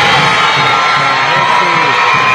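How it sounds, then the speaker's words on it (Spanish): A stadium crowd roars and cheers continuously in an ovation for Chilean footballer Alexis Sánchez as he takes the field for the national team, a dense loud wall of voices with whoops rising throughout. "La ovación de la gente."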